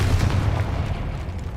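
A Confringo blast spell bursts in Hogwarts Legacy, a dense, booming explosion that rumbles steadily with no voices over it.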